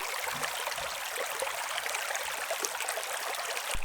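Creek water in thick bush on the Atherton Tablelands runs in a steady close rushing trickle, with no voices.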